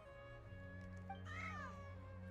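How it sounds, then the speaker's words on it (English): Cats meowing inside Genshin Impact, a single soft meow rising briefly over steady game music and ambient tones, fairly faint and blended into the background. "Aw, look at the kitties."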